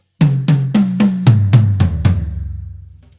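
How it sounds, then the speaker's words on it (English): Descending tom fill on a drum kit with the rack toms set in inverted order: eight firm hits in a steady rhythm, pitches stepping down unevenly before the last drum rings out, close and loud with no voices. "But now instead, with the rack toms inverted, going left to right or high to low would sound like this."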